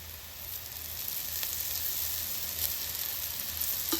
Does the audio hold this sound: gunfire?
no